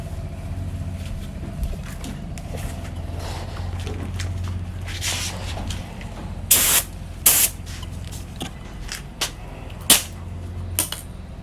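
Spray gun laying down a first coat of paint on a part from a 1950 MG under rebuild, with short hissing bursts that start and stop over a steady low workshop hum, close and fairly loud.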